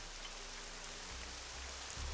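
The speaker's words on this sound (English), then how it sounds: "No one should mind the rain." Steady rain falls in the Nancy Drew: Legend of the Crystal Skull video game, a continuous soft hiss with a low rumble growing toward the end, and no voices over it.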